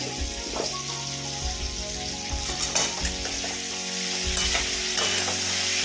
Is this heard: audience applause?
no